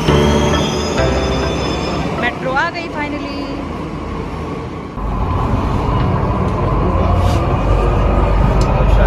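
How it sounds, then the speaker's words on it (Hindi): A Delhi Metro train rolls into a station with squealing wheels and a rising rumble, loud and close, while people talk over the noise. "मेट्रो आ गई फाइनली।"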